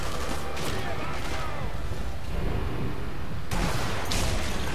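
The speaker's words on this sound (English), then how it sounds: "Got that machine gun pinning me down." Sustained gunfire in the WWII shooter Sniper Elite V2, a dense, continuous clatter of shots with sharper bursts near the start and end, loud and close throughout without speech.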